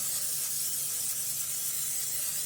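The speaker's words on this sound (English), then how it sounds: "cooking spray here so it doesn't stick to the bottom. I'm using Pam." Pam cooking spray hisses steadily into a baking dish for lasagna, one continuous faint spray that lasts a couple of seconds with no talking.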